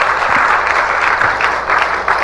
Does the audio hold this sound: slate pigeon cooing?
no